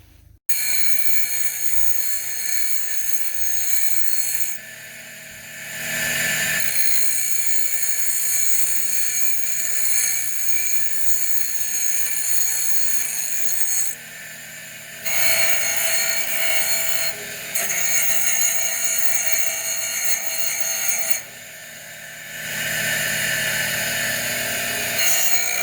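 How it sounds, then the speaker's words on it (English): A power drill bores through greenhouse shelf parts in a series of long, loud, sustained runs, each lasting several seconds and separated by brief pauses. "And then we'll get to drilling."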